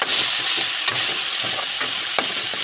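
Crushed ginger, garlic and green chili paste fries in a pan with onions, a steady close sizzle carrying on throughout with a few brief stirring scrapes and knocks.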